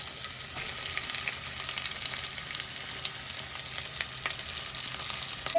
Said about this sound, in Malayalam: കറിവേപ്പില നമ്മൾ ഫ്രൈ ചെയ്തെടുത്ത് ഉള്ളി ചേർത്ത് കൊടുക്കാം കേട്ടോ.